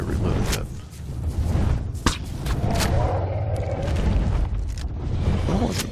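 Several sharp gunshots go off in ARK: Survival Evolved while a woolly mammoth is hunted. The shots are spaced unevenly over rumbling low game ambience and come through moderately loud.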